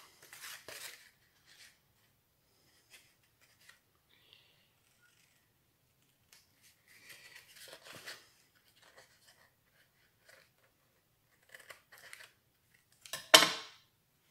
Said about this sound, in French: j'avais un plus petit ciseau